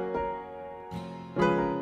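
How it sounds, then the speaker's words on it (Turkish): A piano plays three separate struck notes or chords that ring and fade, fairly soft and alone. "Bu bir piyano. Piyanonun sesi böyle çıkar."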